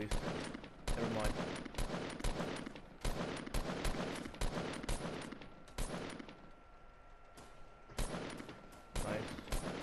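Rapid gunshots ring out in ranked Fortnite, loud clustered bursts of repeated fire separated by short gaps and one quieter lull, with players talking over it.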